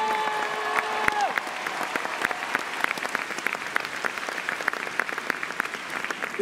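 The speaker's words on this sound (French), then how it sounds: "Merci d'applaudir la ravissante Miss Picardie 2018" At a Miss Picardie beauty pageant, the crowd applauds the former Miss Picardie 2018, a broad, even wash of many hands clapping steadily in a large venue, while a brief musical tone fades out at the start.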